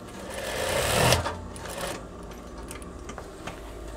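A sewing machine stitches reinforced seams on a veterinary coverall, running in a loud, fast whirring burst that rises and then stops, followed by softer clicks and handling noises.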